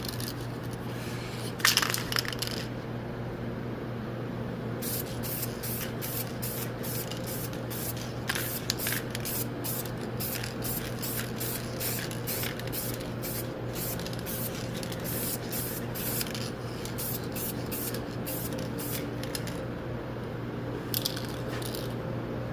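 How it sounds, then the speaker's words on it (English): Clear coat paint sprayed onto a rusted, welded wheel well of a 2011 Toyota RAV4 in repeated short aerosol bursts, each a crisp hiss over a steady low background hum, with no talking. "now what I'm going to do is I'm just going to use the clear coat"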